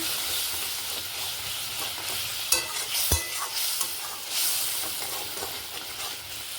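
Eggs with turmeric and pepper being stirred in a hot pan, giving a close hissing sizzle broken by a few sharp spatula knocks and scrapes, with no voices.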